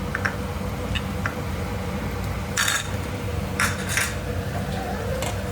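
Ginger garlic paste gets stirred into frying onions in a pan for a drumstick tomato curry: a few sharp metallic scrapes and clinks over a steady low rumbling background.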